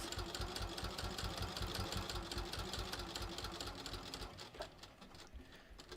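Close, steady machine stitching on a bathrobe's decorative welt pocket, a continuous rapid mechanical chatter that runs throughout at even loudness and eases slightly toward the end.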